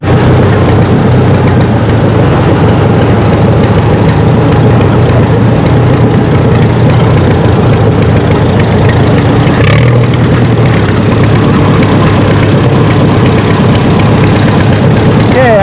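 A pulling tractor's engine runs steadily at a tractor pulling show, a loud, continuous low rumble with engine noise and outdoor commotion throughout and no clear break.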